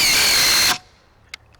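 A Dewalt 887 impact driver run in drill mode at its highest speed setting gives a sharp, loud, high-pitched whir for under a second, then cuts off abruptly, followed by a faint click.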